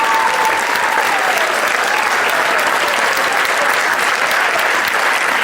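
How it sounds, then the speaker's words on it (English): A school audience applauds after a high-school production of The Taming of the Shrew, with sustained, even clapping filling the room and a faint whoop near the start. "Another round of applause"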